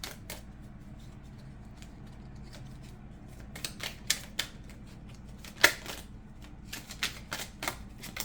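Tarot cards being shuffled and handled at a reading table, a run of soft papery flicks and light taps that sharpens into a few crisp snaps midway, close and fairly quiet with no talking.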